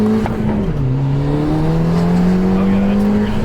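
Subaru WRX accelerating hard with its engine note climbing steadily, the drone of the revving motor carrying a hint of tire slip as the car loses traction, close and continuous.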